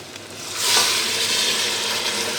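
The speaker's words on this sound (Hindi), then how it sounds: "तो अब हम इसमें पानी ऐड करेंगे।" Water poured into a pan of beef trotters frying with spices, setting off a loud burst of hissing sizzle that swells and then settles into a steady bubbling fry.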